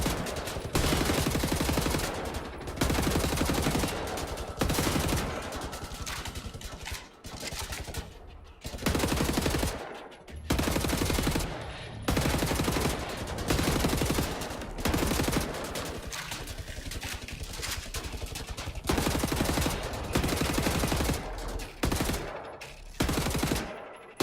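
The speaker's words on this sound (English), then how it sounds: "I feel like I'm just wasting my bullets trying to shoot this guy in the head." Rapid, loud gunfire from Wolfenstein: The New Order, sustained automatic bursts and heavy shots crowding almost the whole stretch with only brief pauses between volleys.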